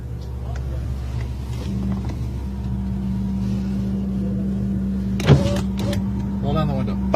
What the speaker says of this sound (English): Roll down the window.